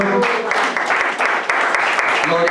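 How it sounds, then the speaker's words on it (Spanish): Loud, steady applause from a church congregation during a Spanish-language sermon on Mark 5, dense clapping that continues evenly from start to finish. "Fuerte aplauso para el Señor"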